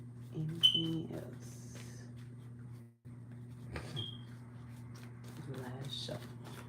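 Tarot cards are shuffled by hand in a quiet room, with soft papery riffles and light taps arriving in brief bursts over a steady low electrical hum.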